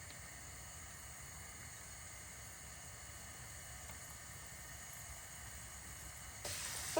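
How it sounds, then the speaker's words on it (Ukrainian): Steady, even sizzling of sausages frying in hot oil, a constant hiss throughout, growing slightly louder near the end. "Олія повинна вже добре кипіти."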